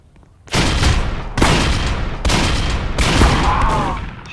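Rapid gunfire bursts from the zombie-survival video game Dead Rails, fired at an armored zombie: three loud, dense volleys of shots start abruptly and run back to back, close and continuous, with no talk over them.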